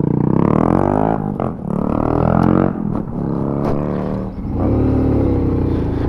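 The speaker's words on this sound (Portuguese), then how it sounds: "Na saída, minha moto é muito presa, ela é lenta. Vocês viram aí, eu saindo agora." Honda Pop motorcycle accelerating away from a start, its small engine revving up through rising pitch sweeps with brief drops between gear changes, loud and close with no talking.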